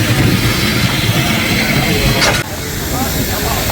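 A coal-fired steam locomotive on the Isle of Man railway hisses steam in a loud, continuous roar. A sharp burst cuts in midway before the hiss settles slightly quieter.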